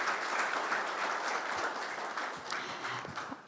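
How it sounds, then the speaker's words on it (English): Applause from an audience at a foundation day ceremony, a broad steady wash of many hands clapping together, somewhat distant and soft, tapering slightly toward the end. "A huge round of applause for Dr. Shukla"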